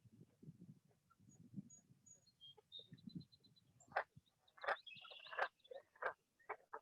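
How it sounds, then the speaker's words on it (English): Green frogs give twangy, banjo-like calls from a wetland trail, with several loud plucked notes in the second half over quieter low rumbling and faint high insect-like chirps. "If you listen carefully, you can hear the green frogs that live here."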